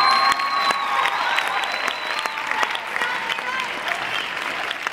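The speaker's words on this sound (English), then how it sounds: "give him a round of applause!" Loud, sustained applause from a crowd, dense clapping throughout with a high whistle or cheer over it early on.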